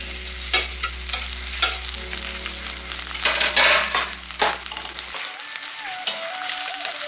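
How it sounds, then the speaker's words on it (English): Spring onions hiss and crackle in hot chilli oil in a pan, a loud steady sizzle with stirring scrapes; the sizzle drops off near the end, leaving quieter frying sounds. "get a good glug of your chilli oil into a pan, get it heated up so it's nice and hot, and then it's in with your spring onions"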